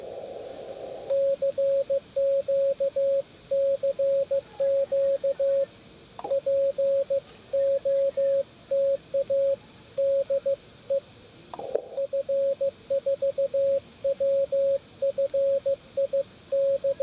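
Another station answering on an amateur radio frequency during a park activation in Paris, heard as a steady on-off Morse tone keyed in short and long elements through continuous static hiss, with brief clicks between bursts.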